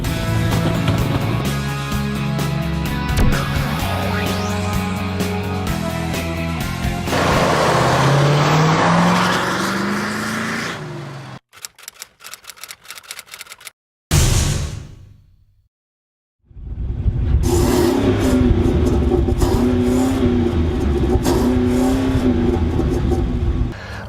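A 2015 Chevy Silverado half-ton pickup with a 6.2-liter V8 revs and accelerates loudly with a deep, rising engine note, then briefly cuts out before the engine roars again at full power.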